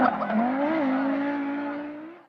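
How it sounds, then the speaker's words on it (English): An Audi Quattro rally car engine roars loudly and continuously, its pitch climbing, dipping briefly, then holding steady before rising again near the end, with no talking. "of course it's the noise of the Quattro"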